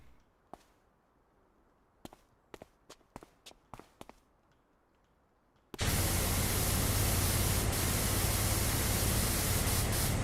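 A pressure washer fitted with an extra long nozzle sprays water in PowerWash Simulator. A few sparse clicks come first, then a loud, continuous hissing spray bursts in abruptly and holds steady to the end.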